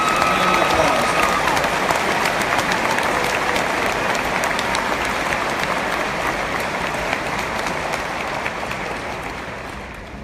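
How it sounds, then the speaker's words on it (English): Commencement audience at an LSU engineering ceremony giving a long, dense round of applause that fills the hall, loud and sustained before tapering slightly toward the end. "Would you please give Zach a well-deserved applause?"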